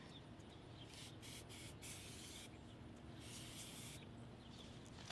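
Repeated hissing bursts of a spray bottle misting Meguiar's bug and tar remover onto a car's front end, several pumps in quick succession over a steady background hiss.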